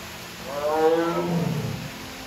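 A tiger at San Diego Zoo gives one deep, loud roar that swells and then drops into a lower rumbling growl, heard clearly against a steady background hum, with no voices.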